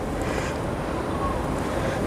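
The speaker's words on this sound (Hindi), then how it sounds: "तो जी बहुत बढ़िया हवा चल रही है" Cool wind blowing steadily outdoors at a home, a constant broadband rushing and buffeting against the microphone, close and fairly loud with no talk.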